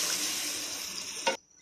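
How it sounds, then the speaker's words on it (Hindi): A glass of water is poured into a pan of chicken kofta curry to make gravy, a loud continuous gushing splash that cuts off abruptly with a final slosh. "अब हम इसके अंदर 1 गिलास पानी ऐड करेंगे ग्रेवी के लिए"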